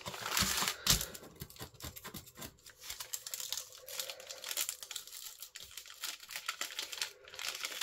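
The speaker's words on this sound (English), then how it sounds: "So I think this is going to rip all the way down." Sheet of homemade faux rice paper being peeled and torn, a close, continuous crinkly ripping and crackling that runs steadily with brief louder tears, no voice over it.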